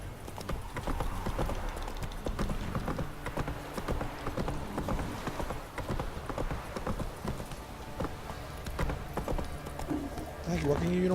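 Roach, the horse in The Witcher 3, gallops in a fast, continuous clip-clop of hooves, loud and close, with a player talking over the hoofbeats.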